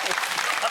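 Studio audience clapping on the Australian All Star Family Feud game show set, a short dense burst of steady applause filling the room at moderate loudness.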